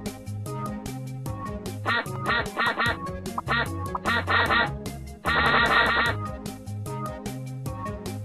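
Cartoon duck quacks from the Teach Your Monster to Read game sound in quick clusters over a bouncy game music bed, with a longer burst of quacking near the end.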